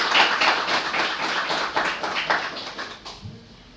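A church congregation claps together in a dense, steady burst of applause that carries on for several seconds and then tapers off, with no talking over it.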